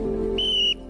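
A referee's whistle at a rugby sevens tournament in Oman gives one sharp, steady shrill blast lasting about a third of a second over a low murmur of outdoor background noise.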